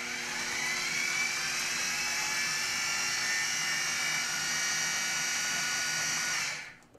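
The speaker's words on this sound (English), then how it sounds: "Now we just blend this all together." A blender or mixer whirs steadily while blending cashew cake batter with Kahlua. A loud, constant high-pitched motor drone runs for several seconds, then winds down at the end.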